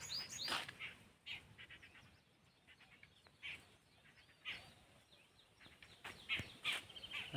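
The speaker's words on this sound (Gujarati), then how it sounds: "આજ જો પક્ષીનો અવાજ આવી રહ્યો છે." Birds chirp and call around a farm at morning, scattered bright tweets and short bursts coming and going over a quiet rural background, fairly near and moderately loud.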